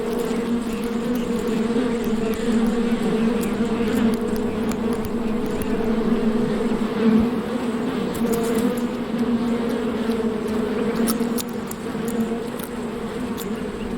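A dense swarm of thousands of male bees in the Sonoran Desert drones with a loud, continuous buzz that holds steady throughout and dips slightly near the end.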